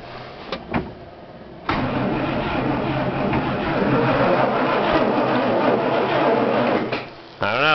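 A 1966 Buick Skylark GS with mouse-chewed wiring cranks after a couple of short clicks, then its engine runs loud and close for several seconds before cutting off abruptly, followed by a brief final burst.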